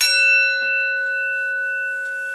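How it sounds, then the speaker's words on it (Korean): A meditation bell is struck once, opening with a bright metallic attack, then leaving clear sustained ringing tones that fade slowly, alone with faint background noise. "다시 전체 정황을 종소리 듣고 종소리에 집중하세요."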